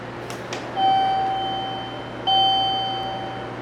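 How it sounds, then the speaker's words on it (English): An elevator call bell at a vandal-resistant EPCO/Adams car operating panel on a Hotchkiss hydraulic elevator chimes twice, each a clear sustained tone that slowly fades, heard close with no talking. "Let's ring the bell."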